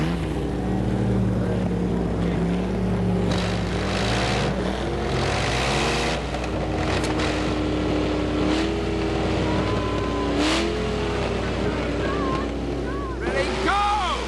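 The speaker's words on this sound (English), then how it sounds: "start your engines." Engines of scrapheap-built pulling vehicles roar continuously through a power-pull contest, a steady loud droning with rising and falling pitch while people talk and shout over it.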